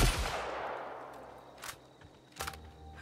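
Sawed-off shotgun blasts in The Outer Worlds: one heavy boom whose tail fades slowly, then two sharper, lighter shots about a second apart, with no talk.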